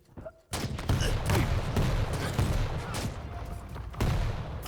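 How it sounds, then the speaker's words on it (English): Rocket fire in a fast-paced online shooter match, a rapid series of loud blasts and booms that starts abruptly after a brief quiet moment and continues densely. "But good rockets from Badz0r."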